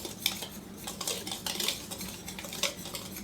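Blueberry cornbread batter is blended in a bowl, with a spoon or utensil clinking and scraping against the sides in quick, uneven strokes, quiet and close with no voices.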